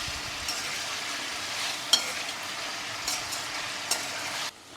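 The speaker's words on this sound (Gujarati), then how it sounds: "આપણું તેલ ગરમ થઈ ગયું છે. હવે આપણે આ ચિપ્સ આમાં એડ કરી દઈશું." Potato chips fry in hot oil for Kathiyawadi Gujarati cooking, giving a steady close sizzle with a few sharp stirring clinks, then cutting off abruptly near the end. No speech.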